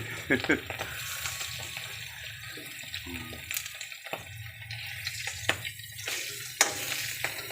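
Tuyo, a dried fish, fries in a pan with a soft, continuous sizzle and crackle. Faint clinks and utensil taps sound over it, with brief bits of background noise.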